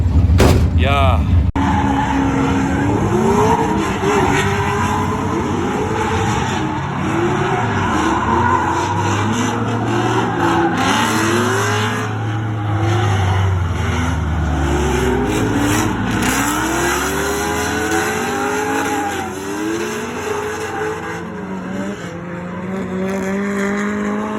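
A drift car at an Excite GP Round 1 drifting event revs hard with rising and falling engine sweeps while its tyres skid and squeal, loud and continuous throughout.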